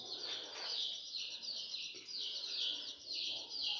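A young pigeon chick gives thin, high chirping calls that come in repeated quavering bursts over a faint background hiss, with no voices.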